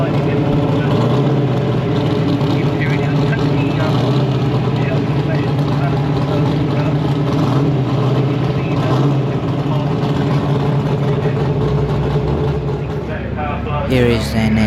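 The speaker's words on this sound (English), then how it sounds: "this Vauxhall trying to reverse a good spot on the paddock" A Vauxhall reversing in the paddock at the Shelsley Walsh Classic Nostalgia hillclimb, its engine running loud and steady throughout, with other engines and a murmur of background voices around it.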